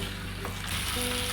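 Chicken sizzling and frying in gongura gravy in a pan, a steady close hiss with a brief stirring scrape partway through and no voices.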